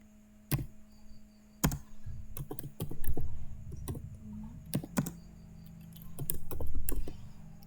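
Keys clatter on a computer keyboard as a SQL query is typed, irregular bursts of close taps with short pauses between, moderately loud and without speech.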